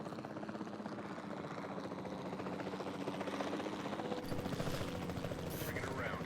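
Helicopter in Jurassic World Evolution 2 flying during a dinosaur tranquilizing mission, a steady muffled rotor thrum and engine drone throughout, fairly faint, with a few sharper clicks near the end and radio voices talking over it.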